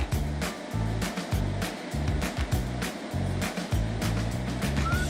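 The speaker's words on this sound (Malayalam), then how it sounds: "ഇനി എല്ലാം കൂടെ നന്നായിട്ടൊന്ന് മിക്സ് ചെയ്തെടുക്കാം." Lemon pickle ingredients are mixed together by hand in a bowl for a Kerala-style achar. Close, rhythmic squelching and scraping strokes repeat steadily throughout, with no speech.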